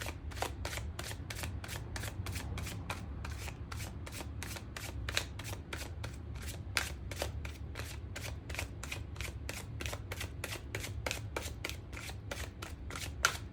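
Tarot cards being shuffled for a channeled love reading, a fast steady riffle of crisp card snaps repeating evenly for the whole stretch over a low room hum, with no talking.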